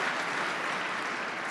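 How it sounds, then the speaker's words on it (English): Dense, even applause from a large audience at a global finance and investment summit in Saudi Arabia, a continuous wash of clapping with no voices. "Can I get a big round of applause for His Excellency, ladies and gentlemen?"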